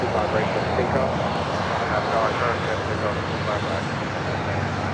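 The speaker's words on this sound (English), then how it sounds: "runway 25 right for takeoff" An airliner at LAX rolls for takeoff on runway 25 right, its engines a broad, steady roar heard from a distance, with voices talking over it throughout.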